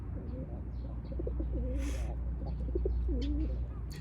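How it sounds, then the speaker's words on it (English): Pigeons coo close by in several soft, rolling low phrases over steady background rumble, with a brief rustle partway through. "wow, these pigeons are talking to me."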